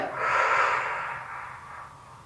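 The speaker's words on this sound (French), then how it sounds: "Expire. Dernière. Expire." A long, breathy exhalation during a Pilates exercise, close and moderately loud, swelling quickly and then tapering off slowly over about two seconds, with no talking.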